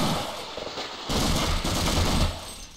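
Rapid bursts of gunfire from the video game Half-Quake, a loud, dense volley of shots that runs for a couple of seconds before tapering off, with no talking over it.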